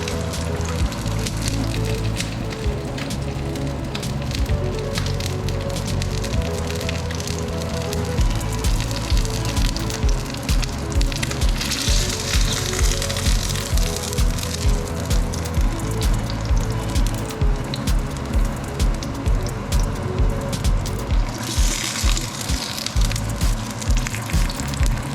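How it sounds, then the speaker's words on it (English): Dry aged steak fat searing in a hot pan, a steady loud sizzle and crackle of rendering fat that runs unbroken throughout with no talk. "I want to get a nice even sear on that fat, help it render down even more"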